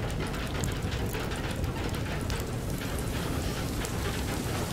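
Rainstorm in FAR: Lone Sails, a steady loud hiss of heavy rain mixed with clattering, ratcheting mechanical rattles from the vehicle, continuous throughout.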